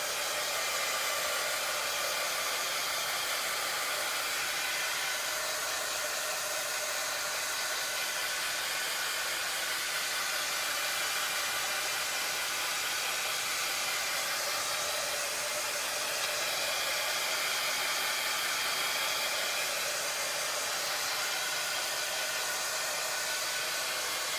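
A dryer blows steadily on wet paint on a wooden bunny welcome sign, a constant close whooshing hiss that runs unbroken from start to finish with no voices.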